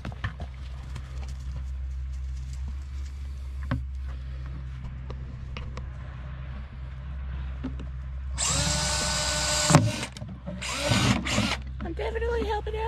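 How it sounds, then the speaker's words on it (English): A power drill bores holes in short bursts, loud and close, after a stretch of low background hum; the whine starts and stops several times. "I'm gonna drill some holes."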